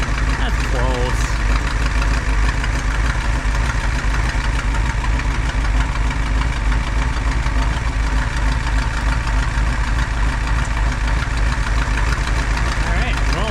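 The engine of a 1985 Dodge Ram truck idles in neutral with a steady, rough, knocking rumble that runs unbroken and loud from start to finish, with a person talking over it.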